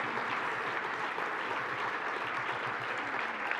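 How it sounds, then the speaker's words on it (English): Steady, dense audience applause at an awards gala honouring rescue heroes, sustained and even throughout, no voices on top. "Clap, clap, clap, clap."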